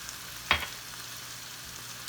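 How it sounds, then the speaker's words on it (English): Balsamic vinegar goes into a hot pan, bringing a steady soft frying hiss with a sharp burst of sizzle as the liquid hits, then a faint crackle afterward. "And now I'm going to add my balsamic vinegar"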